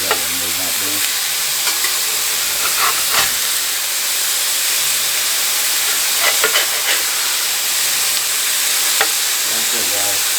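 Philly cheesesteak meat sizzles steadily on medium heat in a pan, a loud, constant hiss with scattered scraping taps from a spatula as it cooks.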